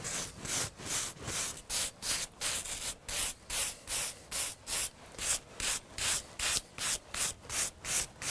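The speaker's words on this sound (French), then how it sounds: "je nettoie le bord de la pierre avec une brosse métallique assez souple, pas trop trop dure" A soft wire brush is scrubbed over the stone edges of a repointed stone wall in regular back-and-forth strokes, a dry rhythmic scratching heard close and alone.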